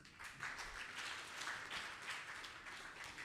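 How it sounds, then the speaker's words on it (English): Audience applause at a Commonwealth Hansard Editors conference session, a steady wash of clapping from a crowd, faint and continuous for a few seconds. "may we give them a patting hand of applause"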